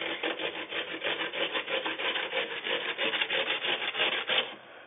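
Raw potatoes are rubbed against a sharp handheld grater for Kartoffelpuffer, making a rhythmic, rasping scrape with quick strokes. The sound is close and continuous for about four and a half seconds, with no talking.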